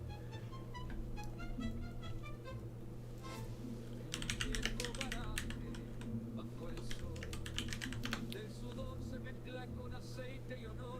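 Keystrokes on a computer keyboard as a search is typed, bursts of rapid clicking over a steady low hum, loudest around the middle.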